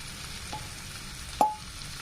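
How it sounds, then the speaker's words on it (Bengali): Onion fries in butter with a quiet, even sizzle, broken by a couple of brief clicks and taps, one sharper near the middle, as the pan is handled. "পেঁয়াজটা ভাজা হতে থাকুক"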